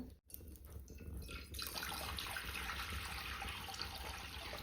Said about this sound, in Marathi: कढईमध्ये आपण पाणी गरम करण्यासाठी ओतणार आहे